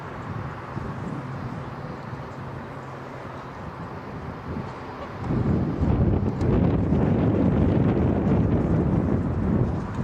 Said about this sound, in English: A windy evening here at Kenwood High School.